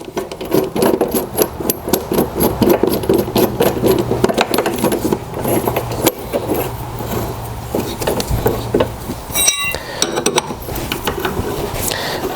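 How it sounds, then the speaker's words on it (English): A two-jaw puller works a pulley off the shaft of a Toro Recycler self-propelled mower, driven by a 5/16 bolt. Dense, continuous rasping and clicking metal-on-metal scraping fills the scene up close, with a few sharp ticks near the end. "I'll get my 2-jaw puller"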